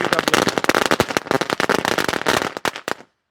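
A string of firecrackers at a Sivakasi cracker shop goes off close by in a dense, loud, rapid chain of sharp bangs for about three seconds before stopping abruptly.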